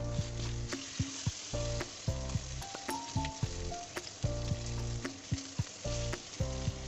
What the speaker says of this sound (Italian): E rosoliamo tutta la parte del carne.